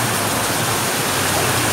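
Heavy rain pours down on a Saigon street, a steady dense hiss of water with no breaks, loud and constant throughout.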